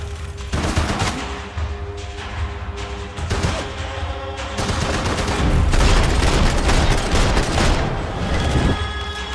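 Dense video-game gunfire from Max Payne 3 in the Police HQ level on PC, with loud overlapping shots and bursts over a constant roar of battle, heavy and continuous throughout.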